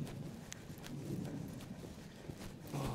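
Horse hooves clip-clop at an equestrian event at Keysoe, a steady run of hoof strikes on a firm surface with outdoor ambience beneath, moderately close and even in level.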